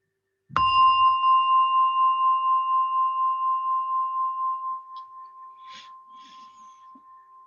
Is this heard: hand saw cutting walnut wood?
no